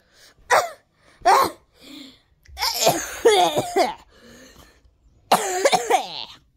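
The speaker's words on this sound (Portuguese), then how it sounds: "eu tô literalmente tossindo" Person coughing, in short sharp bursts at first, then a longer rough fit of hacking mixed with breathy laughter and throat clearing, close and loud with pauses between bursts.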